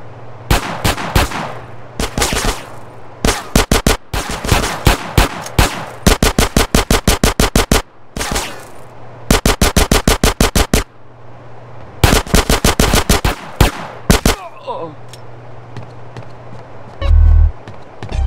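Video game machine gun fire in GTA San Andreas comes as repeated rapid bursts of loud, close automatic shots separated by short pauses, with a low engine-like hum underneath.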